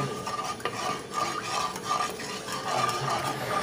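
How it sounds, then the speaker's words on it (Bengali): Prawns fry lightly in oil in a pan with a close, continuous sizzle, while a utensil scrapes and stirs through them in repeated strokes. "আমার পরিষ্কার করা চিংড়ি মাছগুলো হালকা করে ভেজে নিচ্ছি।"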